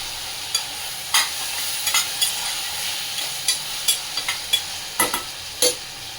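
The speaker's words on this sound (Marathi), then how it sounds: "बटाटा व तेलामध्ये छान परतून घेते" Potatoes and tomato sautéing in oil in a pan, a continuous soft sizzle broken by sharp scraping stirs at irregular intervals, close and with no talk.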